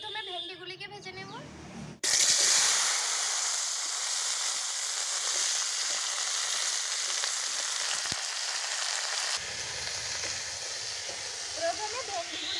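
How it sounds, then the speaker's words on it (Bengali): Okra sizzles in hot oil in a wok, a loud continuous frying hiss close by that follows a brief burst of other noise at the start, with speech over part of it. "প্রথমে ভেন্ডিগুলিকে ভেজে নিচ্ছি"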